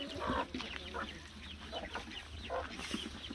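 Chickens and chicks clucking and peeping on a Turkish farm where a baby watches hens, turkeys and ducks, with several short calls scattered over steady farmyard background.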